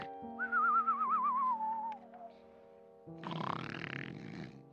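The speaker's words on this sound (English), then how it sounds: "How that man can snore." A man snores in a comedic radio play: a warbling whistle on the out-breath slides downward, then after a short quiet gap comes a rough, rasping snort of an inhale.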